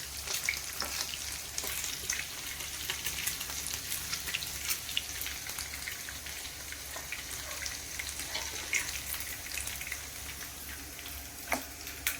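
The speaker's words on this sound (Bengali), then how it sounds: "এরকম হালকা করে গোল্ডেন করে ফ্রাই করে এবার এটাকে ঠিক করে দেবো" Paneer fries until golden in a pan, giving a soft, even sizzle and crackle that runs continuously at low level, with occasional small pops and a faint background hum.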